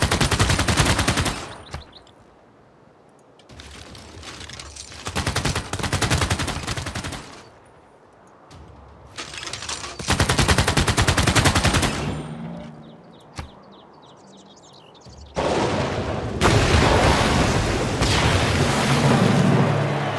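Bursts of heavy rapid gunfire and booming blasts from an army attack in the strategy game Civilization VI, coming in several loud volleys separated by quieter gaps.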